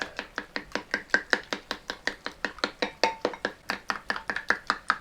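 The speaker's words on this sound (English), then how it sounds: "once I get that egg nicely beaten up, get that into here" A spoon beats an egg in a bowl for an Italian shepherd's pie, a fast, steady run of sharp clicks, about five per second, close and loud with no talking.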